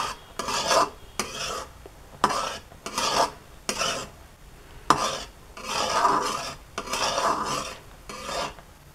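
Milk thickening into homemade condensed milk is stirred briskly with a spoon in a pan, producing repeated rhythmic scraping strokes in bursts, close and clear.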